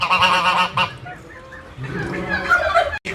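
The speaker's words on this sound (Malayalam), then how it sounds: "ഇത് ഈ ഫാമിലെ ഒരു പ്രത്യേക ഉള്ള ഒരു താറാവ് ഒരു കുഞ്ഞൻ താറാവ്" A tiny pigeon-sized bantam duck on a mixed farm gives loud, honking quacks in quick repeated bursts close by, with a brief pause partway through.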